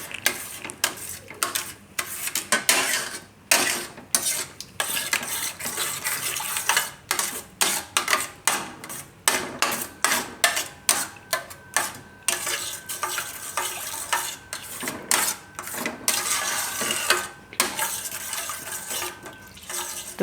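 A spoon stirring flour and milk in a pan to make a lasagna white sauce, repeated scraping and swishing strokes in an uneven rhythm with a light sizzle, close and steady over twenty seconds.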